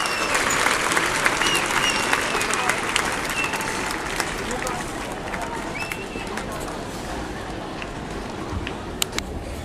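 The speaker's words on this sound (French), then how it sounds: "vous entendez les applaudissements du public français et monégasque" Dense, steady crowd applause fills the stands at a tennis match during the Rolex Masters in Monte Carlo, with sharp individual claps standing out above a continuous roar that holds for nearly ten seconds, with faint voices mixed in.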